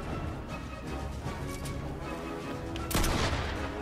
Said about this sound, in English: I'm already hearing some shooting.